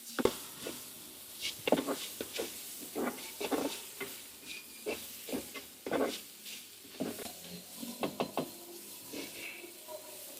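Onion flowers tossed with dried fish (masi) sambal powder in a pan, a spatula scraping and stirring in steady, uneven strokes over a faint sizzle, close by with no talking.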